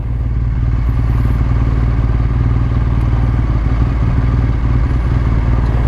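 Close and loud, the boxer engine of a 2017 BMW R1200 GS adventure bike drones evenly at a constant pace while riding, a deep pulsing hum with slight mechanical clatter and no voices.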